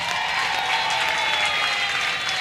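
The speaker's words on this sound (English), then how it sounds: "Give yourselves a very big applause." Graduates at a college graduation ceremony in Bloemfontein applaud steadily, a dense sustained wash of many hands clapping that fills the hall at even loudness throughout.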